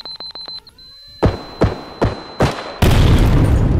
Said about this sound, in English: we're about to win by the bomb explosion